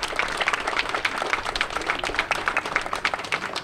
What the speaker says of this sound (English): Can we get one more round of applause for these talented musicians?